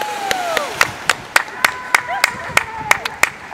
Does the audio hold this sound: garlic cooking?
no